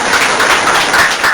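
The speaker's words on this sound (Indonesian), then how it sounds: "Tepuk tangan buat Dimas." An audience at a campus event bursts into loud applause, a brief, dense clatter of many hands clapping close by, with no talk over it.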